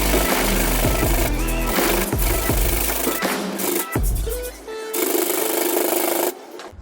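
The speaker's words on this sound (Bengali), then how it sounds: "80 গ্রেড স্যান্ডপেপার, এটা দিয়ে আমি এটাকে ঘষবো, এটাকে স্মুথ করার চেষ্টা করবো।" Coarse 80-grit sandpaper rubbed by hand over a scratched car body panel, a steady rasping scrape in repeated strokes with short pauses, close and fairly loud, with no talking.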